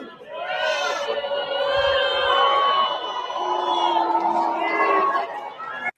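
A large commencement crowd booing a speaker, a sustained loud mass of voices with jeers and shouts swelling and holding steady before tapering off.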